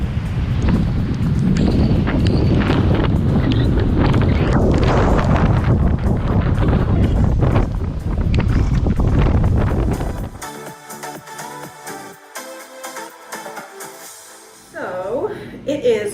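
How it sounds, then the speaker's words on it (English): Strong hurricane wind from Hurricane Genevieve roars loudly across the microphone for about ten seconds with big waves at Los Cabos, then cuts to quieter, rougher gusts and clatter. "it's still really, really windy"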